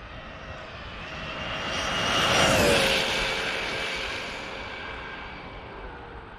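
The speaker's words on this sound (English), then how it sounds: "Here we go, Traxxas XRT 8S pass." A Traxxas XRT 8S RC car speeds past outdoors, its high-pitched electric motor whine rising as it approaches, peaking loudly, then fading with a falling pitch as it moves away.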